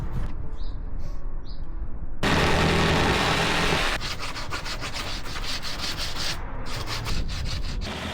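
Steady rasping strokes of a handsaw cutting through wood for a van floor, close and continuous, with a brief shift in tone partway through.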